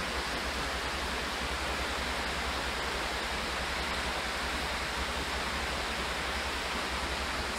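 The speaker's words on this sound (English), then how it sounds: "this river's coming down from the mountains south" A river flowing down from the Great Smoky Mountains near Gatlinburg, Tennessee, heard from a resort balcony, gives a steady, even rush of water that never lets up.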